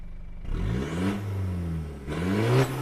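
A heavily accessorized car's engine revs hard twice in close succession, climbing in pitch each time, loud and close with a deep exhaust note and no talking.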